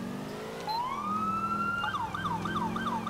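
A police car siren in the LCPDFR game on an NYPD Charger patrol. It rises into a steady wail, then breaks into a fast yelp, loud and close over an engine rumble.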